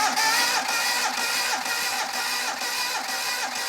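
An engine cranks over during a compression check, giving a steady, rhythmic run of mechanical pulses about twice a second, close and with no talk over it.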